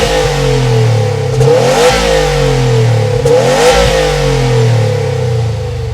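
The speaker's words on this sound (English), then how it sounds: "since this is a sports car and you have quad exhaust, we do have to hear what it sounds like" A 2020 Subaru WRX STI engine revs hard several times through its quad exhaust, the note rising and falling in loud, throaty bursts with a steady rumble between.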